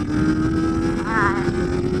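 Kawasaki Ninja 400 motorcycle (2023) engine pulling hard in second gear, a steady loud drone with a rising harmonic whine midway, heard up close from the rider's position with wind rush.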